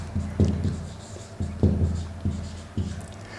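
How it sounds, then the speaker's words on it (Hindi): Marker or chalk writing on a classroom board during a lesson, five short scratchy stroke bursts spaced about a second apart, close and moderately loud, with no talking. "तो लिख देता हूं मैं"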